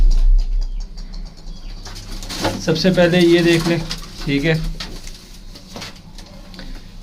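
Healthy, active pigeons coo and shuffle close by, with soft low cooing and occasional wing flaps mixed under someone speaking in Hindi and Urdu.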